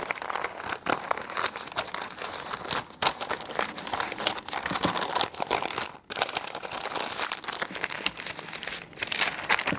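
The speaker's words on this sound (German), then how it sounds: "Jetzt wird das Brisket eingeschlagen." Butcher paper crinkling and rustling continuously as a leftover smoked brisket is wrapped up by hand, close and fairly loud, with a few sharper crunches and brief pauses.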